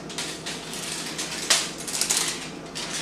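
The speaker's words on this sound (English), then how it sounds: "So I just take aluminum foil and I fold it like, you know, you're doing a fan back in the day" Aluminum foil crinkles and crackles as it is folded into a fan shape in a kitchen, giving close, uneven rustling with a few sharper crunches.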